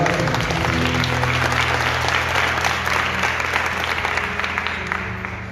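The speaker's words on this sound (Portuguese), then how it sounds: "aplauda essa palavra maravilhosa" A church congregation applauds after a scripture reading, producing dense, continuous clapping over a sustained organ or keyboard tone, loud and close, thinning slightly toward the end.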